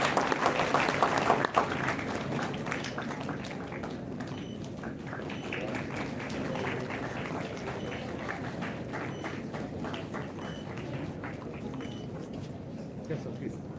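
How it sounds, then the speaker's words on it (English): An audience at a live event claps steadily throughout, a dense patter of many hands that stays fairly even and moderately quiet, with voices talking over it. "Should we clap for such an energetic one or not?"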